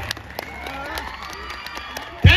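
An audience claps and cheers steadily at a stage show at Hyderabad's Numaish fair. The sustained clapping runs under a voice and ends with a sharp thump.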